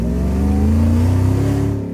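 A Ford SVT Lightning F-150 V8 sport truck accelerates hard with a loud, close engine roar whose pitch climbs steadily, then eases slightly as it fades, with no talking over it.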